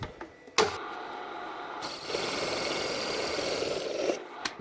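A valve seal cutter rasps against the valve guides of a small-block Chevy double hump cylinder head, a couple of sharp clicks then a sustained grinding cut lasting a few seconds before stopping.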